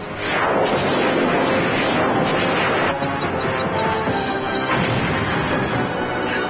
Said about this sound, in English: The Monitor is rigged to explode.